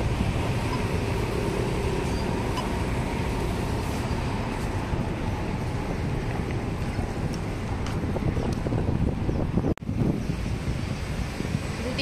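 Steady wind rushes and buffets across the microphone on a street in western Singapore, a constant broad roar with a brief dropout near the end.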